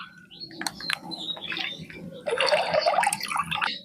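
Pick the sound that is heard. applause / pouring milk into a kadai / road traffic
pouring milk into a kadai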